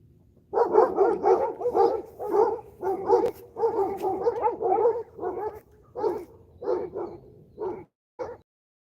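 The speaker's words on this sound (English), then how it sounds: "those are the barking you hear in the background" Two Anatolian dogs bark repeatedly in quick bursts close by in Oklahoma, deep barks mixed with a few whiny yips, pausing briefly between volleys.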